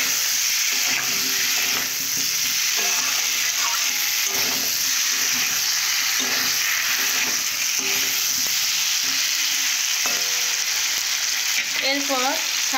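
Potatoes fry in a pan and are stirred, a loud, steady close sizzle with periodic scraping from the stirring.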